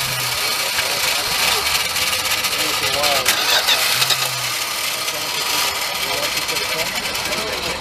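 A 1973 Dodge Coronet Custom sedan's V8 cranks over with a rapid, uneven churn, then catches and settles into a running idle, while someone talks across it.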